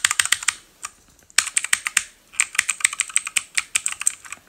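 Close, crisp typing on an E-Element Z-88 RGB mechanical gaming keyboard, rapid clacking keystrokes in quick runs with a short pause near the start, loud and alone.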